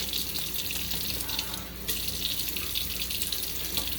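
Steady stream of tap water running into a sink before a shave, a constant close splashing rush with no talk.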